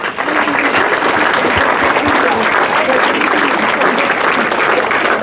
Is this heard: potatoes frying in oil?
no